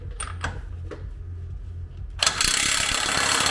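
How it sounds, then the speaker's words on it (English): Rapid clicking of a ratchet loosening the CV axle nut on a Ford Maverick during a lift kit install, a close mechanical burst that turns into a louder, steady metallic whir partway through. "Take off the CV axle nut."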